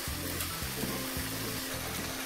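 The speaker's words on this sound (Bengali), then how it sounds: "আমি এতে অল্প অল্প জল দিয়ে নাড়ছি" Ground turmeric, chilli, coriander and cumin cook with splashes of water in a pan for a mutton curry, giving a continuous, close sizzle over a low, pulsing hum.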